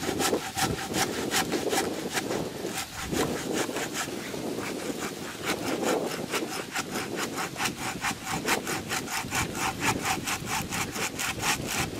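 A 30 cm hand saw cutting through a coconut palm trunk, steady rhythmic back-and-forth rasping strokes, close and loud, continuing throughout without speech.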